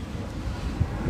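Wind blusters outdoors at a marina with moored yachts, a dense low rumble buffeting the microphone steadily.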